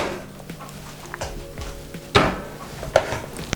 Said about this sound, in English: you just want to remove the whisks